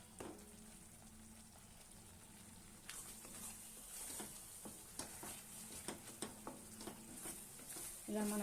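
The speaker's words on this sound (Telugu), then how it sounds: "ఈ మసాలాలో ఈ చింతపండు ఉడికితే చాలా టేస్ట్ వస్తుంది" Tamarind and masala sizzle in a pan for bagara brinjal curry with a continuous soft hiss. Scraping stirring strokes and clicks grow busier toward the end.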